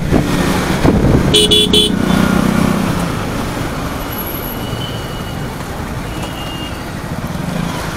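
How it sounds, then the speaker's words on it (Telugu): Busy city road traffic with autos and cars, engines rumbling nearby on and around a flyover, and a short burst of car horn honks early on, then steady roadway noise. "ఫ్లైఓవర్ మీద కూడా ట్రాఫిక్ ఉంది"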